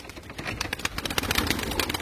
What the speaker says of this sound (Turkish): bu kuşlar yerine girmek istiyor